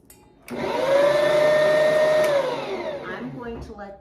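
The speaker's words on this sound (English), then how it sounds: "I'm going to let this run and knead this dough for about 10 minutes" A stand mixer kneading bread dough for garlic cream cheese buns spins up to a steady, loud motor whine with a droning hum, runs for about two seconds, then winds down and fades.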